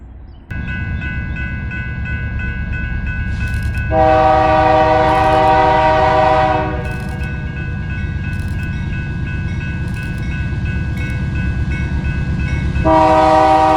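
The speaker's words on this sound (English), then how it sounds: "the duo of older GEs leading a grain train north out of Ark City around Hackney, Kansas" A grain train led by two older GE locomotives rolls north through a curve near Hackney, Kansas. Its engines rumble steadily throughout, and a loud, close multi-tone horn sounds in two long blasts.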